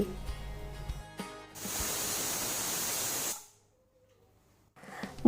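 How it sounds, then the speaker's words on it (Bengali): Pressure cooker with rice and lentils for a mung dal vegetable khichdi, a loud steady hiss of escaping steam lasting about two seconds after some clatter, then cutting off into near silence. "প্রেশারের ঢাকনা আটকে দিচ্ছি দুটো সিটি পড়া অবধি ওয়েট করছি"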